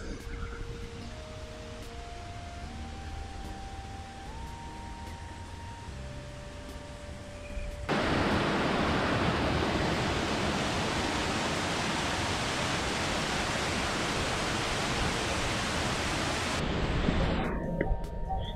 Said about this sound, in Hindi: आप झरना देखिए और इसकी हाइट देखिए